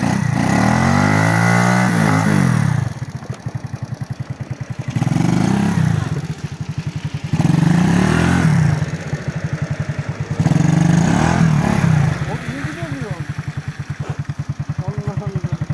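RKS Sniper Pro motorcycle engine revs repeatedly on snow, loud and close, with rising bursts of throttle every few seconds dropping back to a rough idle between them.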